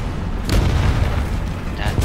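Two bombs explode in War Thunder's realistic tank battle, a deep rumbling boom rolling through a continuous low roar of the game, with a second burst near the end.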